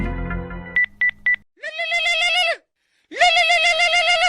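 A mobile phone rings for an incoming call. Three short, loud beeps are followed by two long, warbling melodic tones separated by a brief gap, with no talk.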